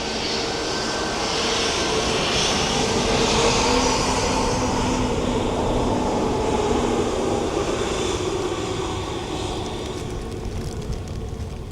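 A Ryanair Boeing 737 MAX jet at Dublin Airport makes a steady, loud engine roar with a broad rushing whine that swells slightly and holds for the whole stretch, with no voices.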